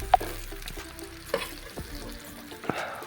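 Chilies roasting in a pan, village style, with a quiet low sizzle punctuated by a few sharp spatula clicks and scrapes as they are turned, close and without talk.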